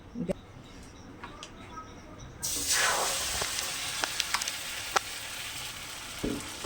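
Oil sizzles sharply after a quiet moment, breaking into a loud, steady hiss with small pops and crackles continuing throughout.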